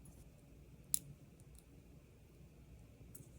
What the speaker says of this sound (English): We're gonna snip them off in the back here.